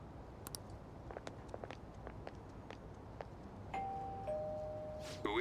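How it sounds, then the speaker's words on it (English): A doorbell rings inside a house in the video game Persona 5, a steady electronic tone entering midway and holding over soft background game ambience and footsteps. "You ring the bell."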